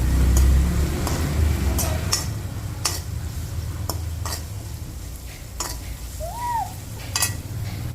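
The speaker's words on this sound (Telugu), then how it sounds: "ఈ పచ్చిమిరపకాయలు ఫ్రై అయ్యేంత వరకు ఫ్రై చేసుకోవాలి" Green chillies fry in a pan with salt and a pinch of asafoetida, a soft sizzle beneath intermittent clicking stirs and scrapes of a utensil against the pan, close and unaccompanied by talk.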